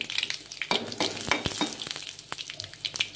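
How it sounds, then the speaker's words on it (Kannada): Dry red chillies dropped into a spluttering mustard-seed tempering in hot oil, crackling and popping in dense, irregular bursts close by, loud and continuous without any voices. "ಸಾಸಿವೆ ಚಟಪಟ ಚಟಪಟ ಹೇಳಿ ಆದ್ಮೇಲೆ ಒಣಮೆಣಸನ್ನು ಹಾಕಿ, ಒಂದು 3 ಒಣಮೆಣಸು"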